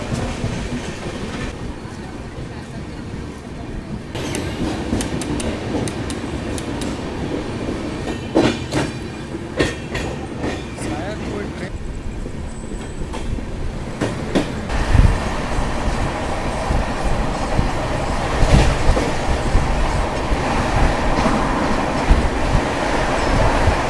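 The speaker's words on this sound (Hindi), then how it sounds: "तो खैर अच्छे खासे स्पीड में अपनी ट्रेन स्किप कर रही है बरहमपुर रेलवे स्टेशन," A Duronto Express rolling at good speed, heard from inside a general compartment: a steady rumble with rhythmic clickety-clack of wheels on rail joints and occasional metallic clanks, no talking.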